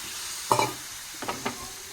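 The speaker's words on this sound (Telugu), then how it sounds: "ఇప్పుడైతే టమాటా వేసేస్తున్నాం" Tomatoes drop into hot oil with green chillies in a pan, where a dried fish curry is being cooked. A quiet, even sizzle is broken by a few short splashing hisses and stirring clicks.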